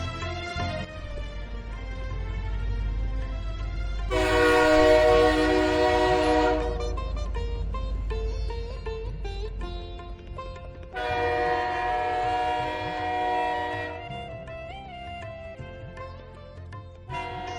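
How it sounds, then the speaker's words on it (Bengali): A cartoon train pulls into a station with strong horn blasts and a steady rumbling rail clatter underneath, the loud horn bursts sounding twice at close range. "ট্রেন চলে এসেছে, ট্রেনে উঠি।"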